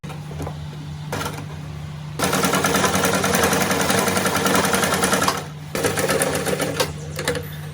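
A sewing machine runs close by, stitching the armhole seam of a tissue fabric kurti in two sustained whirring runs with a short pause between, preceded by brief starts and handling taps.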